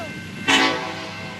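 A Canadian National locomotive sounds its horn in one loud, close, chord-like blast that starts abruptly and trails off over the background rumble.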